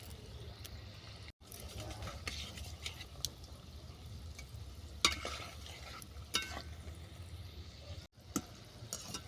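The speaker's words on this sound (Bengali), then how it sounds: "বাকি যেগুলো আছে ওইগুলো আমি ভেজে নিচ্ছি" Potato popcorn deep-frying in hot oil, a steady close bubbling sizzle with occasional stirring scrapes and clinks, continuous throughout with no talking.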